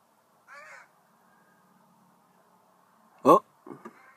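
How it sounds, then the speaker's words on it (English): A crow caws at an outdoor farmers market in Saratoga, a short call followed by a louder harsh caw and a couple of quicker follow-up calls, fairly close against a quiet background. "He just kept passing by and cawing at that thing."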